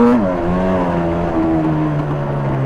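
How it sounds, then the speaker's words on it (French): A Yamaha Banshee 350 two-stroke twin-cylinder quad engine revs loudly and up close, with a sharp blip of throttle that then settles into a sustained buzzing, gradually falling engine note. "Je voulais mettre des coups de gaz."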